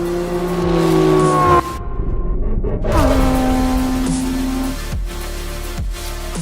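A Ferrari Enzo and a Porsche drag race over a half mile, with loud engines revving through rising gear pulls, brief drops at shifts and sustained high-pitched acceleration.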